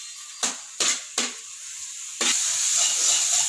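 Onions and tomatoes sautéing in a pan, heard as a steady close sizzle and hiss with several sharp stirring scrapes at the start, and no talking.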